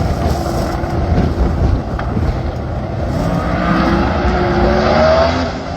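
No-prep drag race car at Maple Grove, Pennsylvania, pulling up after a run, its engine a loud steady rumbling drone heard from a distance, heavily buffeted by wind noise on the microphone.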